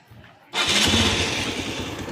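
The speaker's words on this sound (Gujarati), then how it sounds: "આ રીતે આપણી બાઇક શરૂ થઈ જશે" A motorcycle engine, started remotely from a phone through a NodeMCU circuit at a school science exhibition, catches abruptly after a quiet moment and settles into a steady, close idle.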